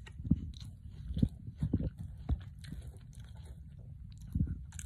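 Close crunchy biting and chewing of Arby's onion rings, a series of irregular crisp bites and munches with quiet pauses between them.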